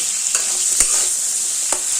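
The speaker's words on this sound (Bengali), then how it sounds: "গ্যাসের ফ্লেমটা লোতে রেখে কুলটা দুই মিনিট ভেজে নেবো" Constant frying sizzle with occasional spatula knocks and scrapes as jujube fruit is stirred in a hot pan over low flame.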